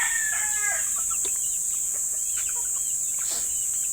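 Backyard chickens, a mix of breeds including a Rhode Island, cluck in short scattered calls while a rooster crows early on, all against steady insect-like hiss and no talk.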